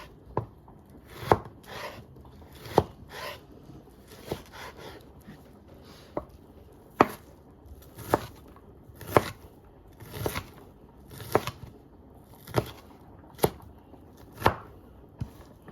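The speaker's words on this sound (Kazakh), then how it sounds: "кубиктеп турап аламыз." Close, steady knife strikes on a cutting board as an onion is diced, sharp taps landing roughly once a second with faint scraping between them.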